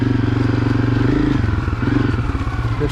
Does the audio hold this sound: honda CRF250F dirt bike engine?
yes